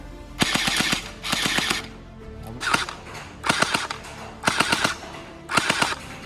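An electric P90 gel blaster fires in short rapid bursts, five quick volleys of snapping shots separated by brief pauses, close and fairly loud with no voice over them.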